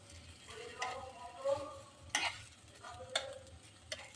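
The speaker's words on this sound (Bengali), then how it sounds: "পিঠাটা একটু ভালো করে একটু ভেজে নিলে একটু লালচে করে ভেজে নিলে" Semolina kheer patishapta pitha fries softly in a pan, a faint sizzle under intermittent scraping and stirring, with a few sharp utensil taps against the pan.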